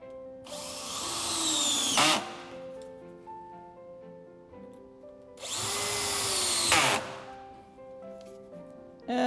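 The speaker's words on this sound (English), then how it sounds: "take our handy power drill and tighten these up so that they're attached nice and secure" A handheld power drill drives screws into a By the Yard fire table in two loud, close whirring bursts of about two seconds each, with a quiet pause between them.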